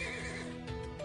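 A horse in the video game Trails of Cold Steel IV gives a loud whinny with hoof clops beneath it, heard close and alone in a brief burst.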